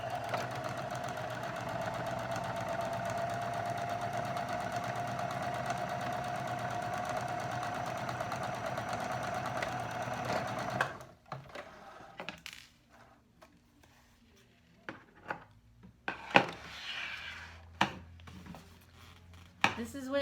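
A sewing machine runs steadily for about eleven seconds, stitching the short sides of a rectangle of face mask fabric with a quarter-inch seam, then stops, leaving scattered clicks and handling clatter.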